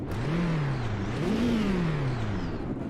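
A car engine in the sim racing game Automobilista 2 revs up and down twice, a loud, steady mid-pitched drone that climbs and falls in pitch with each push of the throttle.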